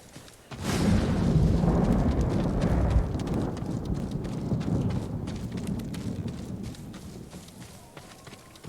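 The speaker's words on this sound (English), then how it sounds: "I keep hearing it thundering" Thunder in the video game Ghost of Tsushima rumbles up suddenly into a long, deep, rolling roar that slowly fades, mixed with rain-like hiss and rapid hoof-like clopping from a galloping horse.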